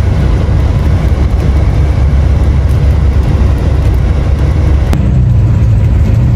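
A camper rig creeps slowly along a terrible, rough logging road on Vancouver Island, its engine rumble and the road noise loud and continuous, with a sharp knock near the end.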